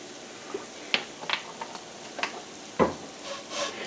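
Tofu puffs stir-fried in oil in a pan, with soft sizzling under scattered scraping knocks of the utensil, heard up close with no talk.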